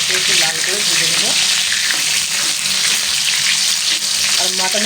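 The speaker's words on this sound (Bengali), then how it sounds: "একটু লাল করে ভেজে নেব।" Ingredients sizzle steadily in a hot pan with a little salt while cooking a mutton curry, a loud continuous fry with occasional stirring clatter and no talk.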